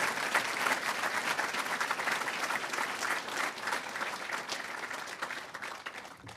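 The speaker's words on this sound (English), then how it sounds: "A round of applause for all of our preceptors and our award recipients tonight." Sustained audience applause for preceptors and award recipients at a PA program celebration: dense, even clapping from a sizable crowd that holds steady for several seconds before thinning slightly at the end.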